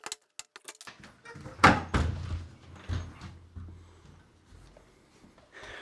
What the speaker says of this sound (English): Let's just take out the hinges so we can take off the actual door.